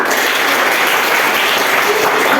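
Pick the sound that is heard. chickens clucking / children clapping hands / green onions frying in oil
children clapping hands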